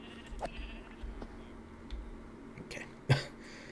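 A sheep bleats in the video game Minecraft: one short, sharp bleat near the end, over a low, quiet background of game ambience.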